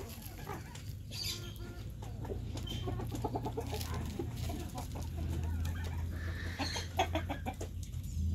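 Chickens in a henhouse cluck and chatter in a steady jumble of short calls, several birds close by, over a low constant hum.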